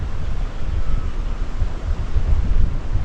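Wind gusts on the coast of Madeira near Porto da Cruz, a continuous loud rumbling buffet with surf-like wash and no voices.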